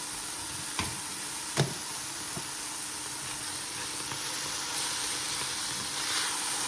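Onions and mushrooms sizzle steadily in a frying pan, a constant broad hiss with a few soft clicks and stirring knocks near the start, moderately close and without any voice.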